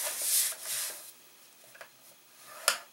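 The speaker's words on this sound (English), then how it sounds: "On the 6 5/8 side, you're going to score 1 inch in from each end." Stylus scoring card paper on a scoreboard for a simple notecard box: a few soft scraping strokes, close and quiet, then a short sharper scratch near the end, with no voices.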